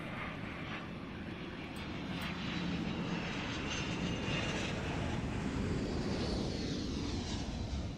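An aircraft engine roars steadily at the Royal International Air Tattoo airshow, a loud continuous drone that swells slightly as the plane passes, with no voices.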